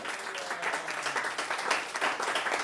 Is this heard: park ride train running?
no